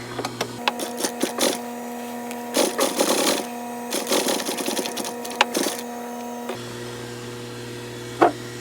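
A sewing machine runs a top stitch along a jeans zipper fly in short bursts with steady whirring and a mechanical hum between runs, close and fairly loud, ending in a brief knock.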